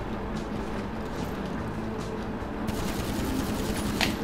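Gunfire in GTA V Online during a deathmatch in a biological laboratory: rapid, dense, sustained shooting over a steady background rumble, with a sharper burst near the end.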